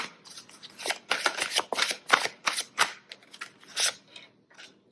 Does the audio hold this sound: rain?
no